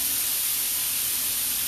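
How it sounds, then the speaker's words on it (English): Water squirted from a squirt bottle onto a hot Blackstone griddle flashes to steam, giving a steady, loud broadband hiss that fills the whole short stretch without a break. "I've got a squirt bottle with water in it"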